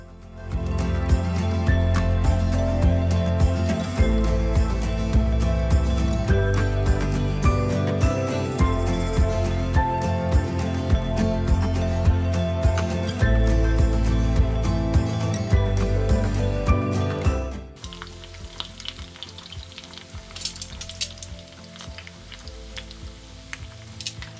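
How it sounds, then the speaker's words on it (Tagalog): Lumpia stuffed with green papaya, carrots, garlic, onions and bean sprouts sizzle and crackle steadily in hot oil, a continuous spitting hiss with music playing loudly over it for most of the time. "let's start frying"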